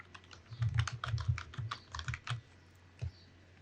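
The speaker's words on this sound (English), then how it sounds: "I am going to type in animation." Keys clatter on a computer keyboard in quick, close bursts of clicks, pausing briefly before one last keystroke, with no talking.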